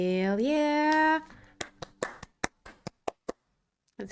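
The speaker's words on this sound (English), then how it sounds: "Let's clap for love." Clapping in the video game Stray Gods comes as a series of crisp, evenly spaced hand claps after a sung phrase, about eight claps fading out near the end.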